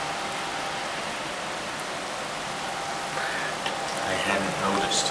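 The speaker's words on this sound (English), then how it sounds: "it always seems to be raining as well" Rain falls in a steady broadband hiss, even and fairly close, with faint voices talking underneath toward the end.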